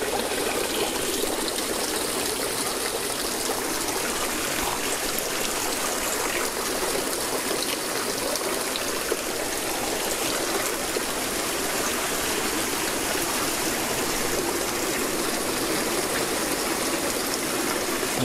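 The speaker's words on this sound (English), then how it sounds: "everything goes through these top tanks, and then it overflows into these big tubs underneath it" Water overflows from the top tanks of a Florida fish farm into large tubs below, a loud, continuous splashing gush with an even, unbroken roar from start to end and no voices over it.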